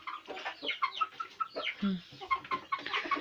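Chickens cluck and squawk continuously nearby, a busy overlapping flock with sharp calls throughout, on a farmyard also keeping geese.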